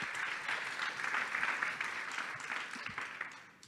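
Audience applause welcoming Bruno Ramael, CIO of The Expert, onto the stage at a startup business day event; steady dense clapping from a sizeable crowd throughout, fading slightly at the end.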